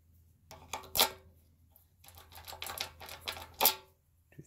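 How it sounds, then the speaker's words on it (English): Several keys, newer style ones among them, jingle and clack as they are handled and tried in a lock, giving a few sharp metallic clinks and rattles in irregular bursts, close and fairly quiet. "Try some of these newer style keys."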